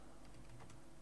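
Typing on a computer keyboard while writing jQuery code, quick soft key clicks in a short close burst, faint and alone.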